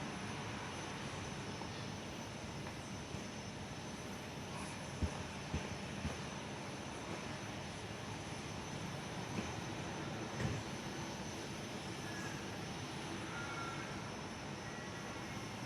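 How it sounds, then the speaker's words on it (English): A Qantas airliner taxis at Perth airport before a flight to Hobart, its engines a steady distant broadband roar with no talk. "QF1672, the Perth to Hobart is just taxiing now."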